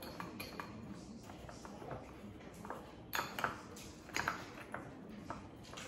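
A butter and breadcrumb mixture is stirred in a bowl, giving quiet scraping with a scatter of light clinks and pings as the utensil taps the bowl, louder in a couple of short bursts.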